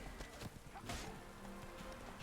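Horse hooves clopping in the video game The Witcher 3, a rhythmic series of soft, muffled footfalls under game ambience and faint background sounds.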